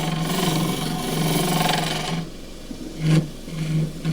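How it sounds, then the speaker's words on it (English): A harsh, jarring rattle of a lathe turning tool chattering against a spinning Himalayan cedar goblet, loud and continuous, easing briefly before a sharp burst near the end. "That jarring sound means chatter marks."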